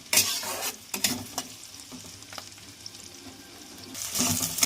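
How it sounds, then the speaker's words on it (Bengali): Sliced onions fry in oil with cardamom and cloves while a spoon stirs them, soft sizzling under scraping strokes and a few clattering bumps against the pan, close by, growing louder toward the end. "পেঁয়াজ দিয়ে ভালো করে নেড়ে নিতে হবে"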